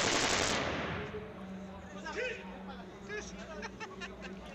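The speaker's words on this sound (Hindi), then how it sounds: "रियल में किसी को पहली बार मैं चलाते हुए देख रहा हूँ ये मशीन गन" Machine gun fired at a Pathan wedding in Pakistan, a loud burst at the start fading into crowd noise and voices with scattered distant shots.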